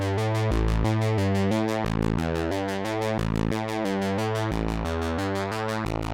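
A Sequential Pro 3 synthesizer plays a bass patch built from a square wave and a digital pulse wave: a buzzy, harmonically rich sequence of evenly stepped notes, loud and continuous, with no speech.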